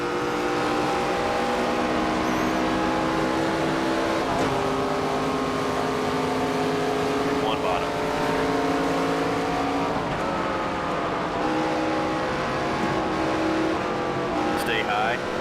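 NASCAR 25 race cars roar continuously around the Phoenix track at night, engines droning and shifting pitch as they pass, while a player talks over the racing.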